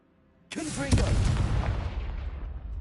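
Confringo blasting spell explosion in the Hogwarts Legacy video game: a sudden loud boom bursts in and rolls into a long rumbling decay, with a brief voice near its start.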